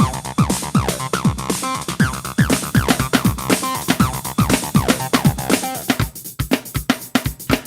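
A squelchy, resonant acid bass synth pulses in a fast repeating sequence, its filter sweeping and bubbling over a steady reggae drum beat.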